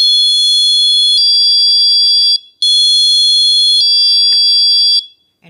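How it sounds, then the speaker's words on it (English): An inexpensive door security alarm in chime mode sounds a loud, piercing two-tone electronic beep, repeating twice in long sustained bursts with a brief gap between them, close and alone. "This is on chime mode. When you open the door, it's going to do this twice."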